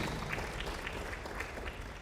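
Audience clapping at a space innovation and investment forum in Kenya after a session is declared open: a steady, distant wash of applause from a crowd, even and unbroken throughout.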